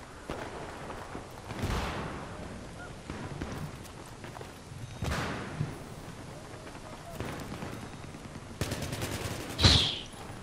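Battlefield 3 combat with scattered gunfire bursts and explosive rocket impacts, a voice talking over the action, one sharp blast near the end.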